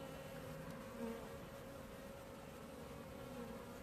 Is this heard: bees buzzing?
yes